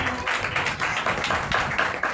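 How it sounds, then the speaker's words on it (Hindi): Audience clapping at a church gathering, a dense burst of many hands applauding together, fairly loud and steady for a couple of seconds. "जोरदार ताली बजाएं।"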